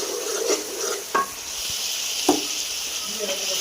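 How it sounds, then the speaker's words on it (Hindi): Chicken and masala sizzle in a pan with a constant hiss of frying oil, broken by a few scraping stirs of a spoon, close up. "इधर साथ में हम चिकन फ्राई कर रहे हैं, साथ में हमारा मसाला रेडी हो रहा है।"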